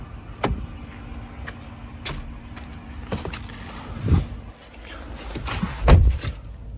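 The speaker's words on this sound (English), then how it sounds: "I'm just gonna hop inside the vehicle so you could take a look at the interior of this GMC" Someone climbs into the cab of a 2017 GMC Sierra 1500 pickup truck. Scattered knocks and thumps sound close by, with a couple of heavier bumps that could be a door or body shifting on the seat.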